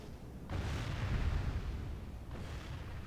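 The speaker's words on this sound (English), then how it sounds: "you can see I have my artillery, and they are doing really good at this, just burning up and killing troops" Artillery fire in a Medieval II Total War siege battle at Venice, a continuous low rumbling roar of bombardment that swells after a moment and holds steady, with a second surge near the end.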